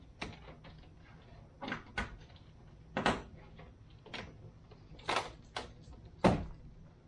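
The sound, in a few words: refitting door trim panel on a Toyota T100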